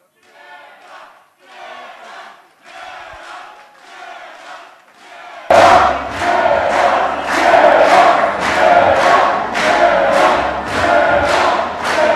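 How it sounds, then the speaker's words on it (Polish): Boxing-event crowd in a hall cheering and clapping in rhythmic bursts as the promoter is welcomed into the ring, faint at first, then jumping to a loud, close roar of repeated chant-like surges. "Wielkie brawa dla niego!"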